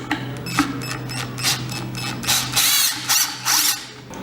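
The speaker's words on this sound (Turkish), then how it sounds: "Şimdi bu adımda vidamızı takıyoruz. Şimdi alt taban kısmına takıyoruz." Screw being driven into the wooden base of a floor lamp, giving a series of small ratcheting, clicking mechanical bursts in an irregular rhythm, close and fairly clear, with no talking.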